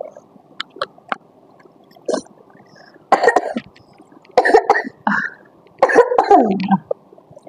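A child who is home sick from school coughs repeatedly in short, rough bursts with throat-clearing between them, close and fairly loud in a quiet room.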